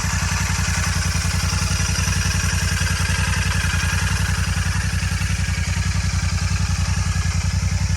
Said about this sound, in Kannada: ಇಂಜಿನ್ ಸೌಂಡ್ ಕೇಳ್ಕೊಳ್ಳಿ.